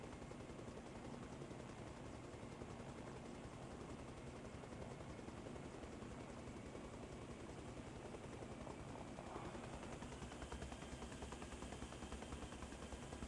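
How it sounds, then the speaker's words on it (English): A helicopter in the video game ARMA Reforger on PS5 drones with a continuous, loud engine whine and rotor roar that holds steady for the whole stretch, with no voices over it. "I can hear the chopper, I can hear the engine whine"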